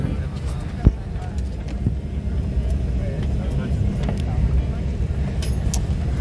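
Steady low roar of an aircraft cabin, constant engine and air noise, with a brief click near the start.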